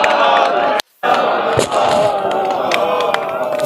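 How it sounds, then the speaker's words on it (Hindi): A large crowd at a Buddhist Dhamma gathering claps and chants in unison, a loud, dense roar of voices and applause that runs throughout, broken by one brief dropout. "भिक्षु संघ के लिए तालियां बजा करके और हाथ ऊपर करके साधु साधु कह करके"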